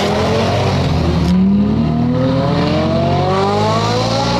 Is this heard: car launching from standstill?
yes